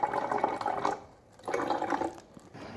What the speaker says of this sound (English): Now you can see that the water is being filled.